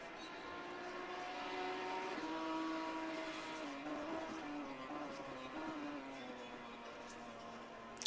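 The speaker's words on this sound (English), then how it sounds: "you can hear the cars coming around the first hairpin" Race cars in an ACC racing game whine around the Donington hairpin, a steady layered engine drone with shifting pitch as several cars brake and accelerate through the turn, moderately distant and continuous.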